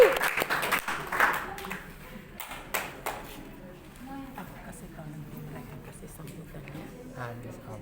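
Audience applause for a vocal group at a school singing competition: loud clapping at the start that quickly thins into scattered claps, with chatter and room noise carrying on afterward.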